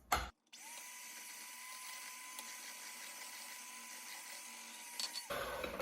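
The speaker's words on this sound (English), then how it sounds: "So just turn your mixer on a low speed and add a little bit in at a time until it's all combined." An electric mixer whirs on low speed through sourdough cake batter, a steady mechanical hum lasting several seconds after a brief clatter, then stopping abruptly.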